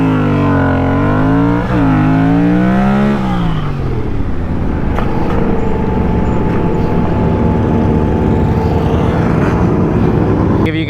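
A Yamaha FZ-07 motorcycle engine revs hard, its pitch climbing and falling in a couple of sharp throttle blips before settling into a steady, loud, rough rumble up close.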